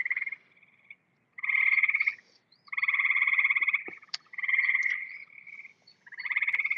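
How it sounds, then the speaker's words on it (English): Chorus frogs calling from up in the trees, a series of loud, sustained trilling croaks in several bursts with short gaps between them, close and clear with no talking. "these are chorus frogs from what I'm understanding, but some of them are high up. I can hear them"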